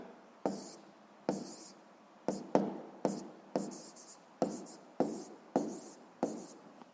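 Handwriting with a pen on paper, heard as about a dozen crisp, close strokes in an uneven rhythm, each a short scratch that fades quickly, in an otherwise quiet room.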